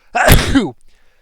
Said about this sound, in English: I just sneezed all over the wall